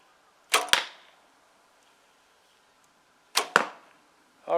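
Arrows shot from a take-down bow strike a dense archery target in two pairs of sharp, punchy thuds, each impact with a brief rattling tail and near silence between them. A third hit begins at the very end.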